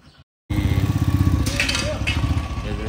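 After a brief near-silence, a motorcycle engine in the mountain village of Manang, Nepal fires up and settles into a loud, steady, close running rumble with a rapid even pulse.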